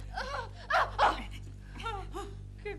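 A fake toy dog in a Hindi TV comedy set, giving short yapping barks and whimpering yips in a few bursts with gaps between, close and fairly loud.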